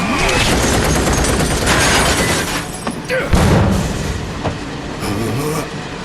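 A train speeds along in Final Fantasy VII Remake with a dense, loud rumbling and rattling roar that runs through the whole stretch, broken by clanking impacts and a heavy jolt partway through, with voices speaking over it.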